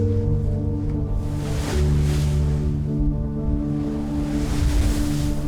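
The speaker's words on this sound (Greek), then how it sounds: "Τα κύματα που θέλαμε να αποφύγουμε." Ocean waves wash and slap around a boat at sea near Fiji, a loud continuous roar with surging swells and wind buffeting close to the microphone, no talk.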